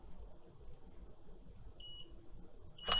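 An Aqara curtain robot gives short electronic beeps during setup: a brief pair of thin tones near the end, then a sharper beep, all over low background rumble with no speech.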